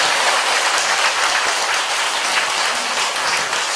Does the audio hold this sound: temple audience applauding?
yes